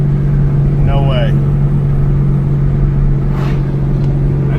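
A Chevrolet Camaro Z28 V8 idles with a steady, deep rumble that fills the whole clip, while someone talks over it.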